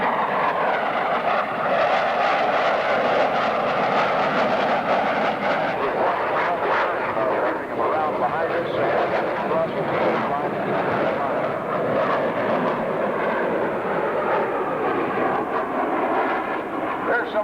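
A fighter jet flies aileron rolls past center point at the 1995 London International Airshow, its engine a loud, continuous roar throughout, with an announcer talking over it.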